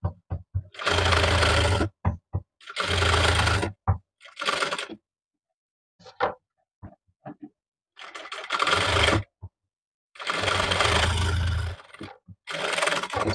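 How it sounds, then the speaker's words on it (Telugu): An electric sewing machine stitching a cotton summer frock runs in loud bursts of about a second or two, with pauses and small clicks and handling noises between runs. "స్టిచ్చింగ్ చేస్తున్నా."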